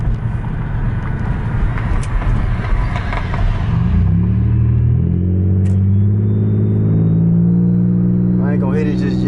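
A straight-piped Chevy Impala LT with a 3.9L V6 gives a loud, deep exhaust rumble close by, then climbs into rising, droning rev tones in the second half.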